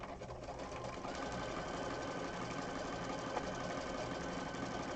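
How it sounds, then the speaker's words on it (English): A sewing machine runs a steady zigzag stitch on a junk journal page, a continuous even mechanical whir with fast rhythmic needle chatter, close and alone. "I'm just going to zigzag stitch"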